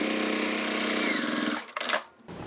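A sewing machine topstitches along a fabric bag strap with a steady, close mechanical whir for about a second and a half, then it stops and short handling rustles follow.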